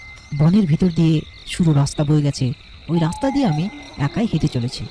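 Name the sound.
crickets chirping at night along forest road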